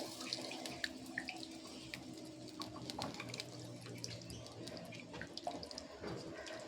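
About a bowl of water goes into a pan of light rohu fish curry, a steady running pour with splashing and trickling that holds at even loudness throughout, close by and alone.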